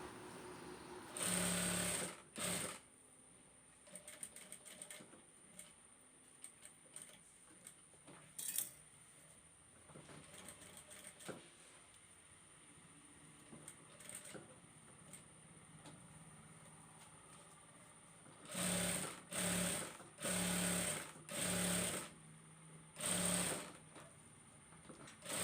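Sewing machine stitching a sticker dhoti, heard as a brief run near the start and then several short bursts of rapid stitching toward the end, with quiet handling noises between them.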